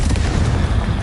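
A Bombarda spell blast in the Hogwarts Legacy video game: a loud, continuous low rumbling boom filling the whole second, dense and heavy with no pause.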